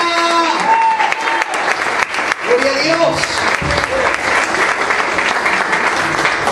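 A church congregation applauds loudly and steadily at a worship service in Barrio Lindo, Almirante Brown, Buenos Aires, with cheering voices and a shout of praise over the dense clapping.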